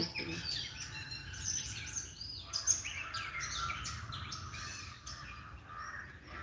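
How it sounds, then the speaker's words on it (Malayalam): Several birds chirp and squawk steadily in the distance at Alakode in Kannur, Kerala, a busy outdoor chorus with faint voices in the background. "നല്ല നല്ല കിളികളുണ്ട് ഇവിടെ കേട്ടോ"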